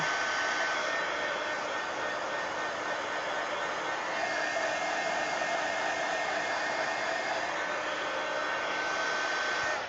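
A hair dryer blows on wet paint in an art journal, a loud, steady, close whooshing hum that runs unbroken throughout without any speech.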